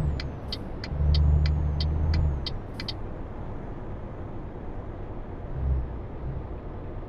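A truck in Euro Truck Simulator 2 with a low engine rumble that swells for about a second and again near the end, plus a run of short high hissing clicks early on; no talk.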